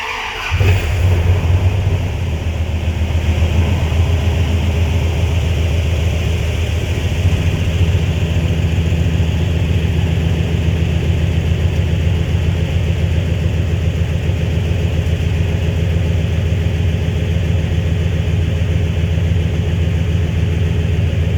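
A flatbed truck's newly installed engine cranks briefly, catches and settles into a steady, even idle that runs loud and close without talk for the rest of the stretch.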